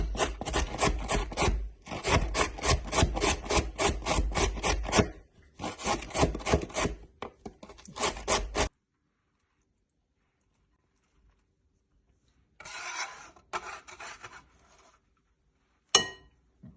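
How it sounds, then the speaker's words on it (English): Carrots rasped quickly on a grater for coleslaw, loud rhythmic scraping strokes in fast bursts, then a pause and a few fainter, scattered scrapes near the end; no talking. "Grate your carrots."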